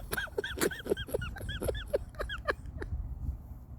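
A dog whimpers and yips in a rapid series of high, rising cries, close and fairly loud, with a few sharper yelps before it falls quiet at the end.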